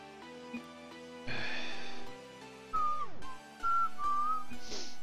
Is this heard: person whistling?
yes